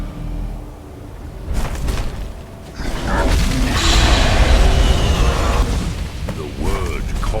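A dragon's Thu'um shout erupts in Skyrim as a deep, booming blast with a roaring whoosh that builds and holds for several seconds after a quieter lead-in.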